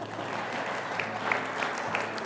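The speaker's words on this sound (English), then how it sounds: "this deserves a clap, doesn't you think?" A church congregation gives a short round of applause, a soft, even patter of clapping with a few louder individual claps standing out near the end.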